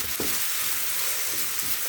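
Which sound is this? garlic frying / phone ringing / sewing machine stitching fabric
garlic frying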